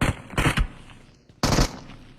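Gunfire in a retro video game, sharp loud bursts of rapid shots at the start, a quieter lull, then another strong burst of firing.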